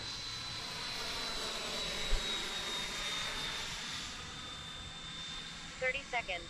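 Intruder model airplane flying before landing, with a steady distant engine drone throughout and a few brief clicks near the end.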